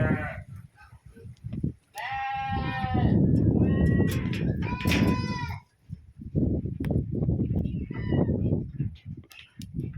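Goats bleat repeatedly at close range among other farm animals, with loud wavering cries that overlap with people talking nearby.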